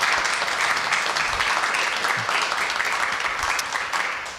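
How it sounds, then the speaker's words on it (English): Audience applause at the close of an artist panel discussion at an arts center, steady dense clapping throughout that fades slightly at the end. "So if you guys can give them a round of applause,"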